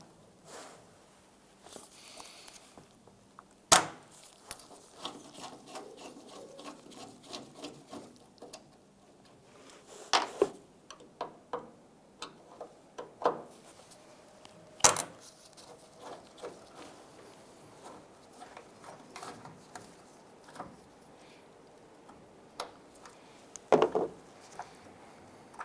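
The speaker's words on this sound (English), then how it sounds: "You use a T15 Torx bit on this screw here, and there's one right up on the top here. You're going to loosen and remove these." A T15 Torx bit loosens and removes the tail light screws on a 2002-2008 Dodge Ram 1500, making scattered close clicks, scrapes and sharp taps of metal and plastic handling over nearly half a minute, with no talking.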